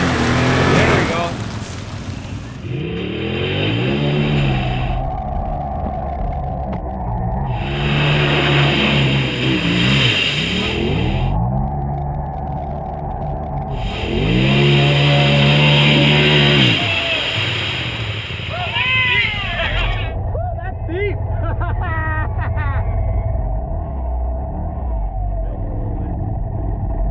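A UTV side-by-side churns through a deep trail mud hole, its engine revving in repeated surges and bogging as water sloshes around it, with people talking over the noise.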